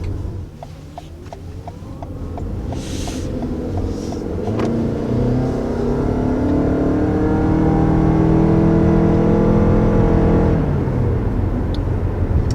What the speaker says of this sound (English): so that was an acceleration up to 60 miles per hour.